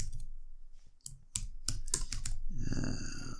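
Fingers tap on a computer keyboard in a short, irregular burst of close clicks, followed by a brief shuffling sound.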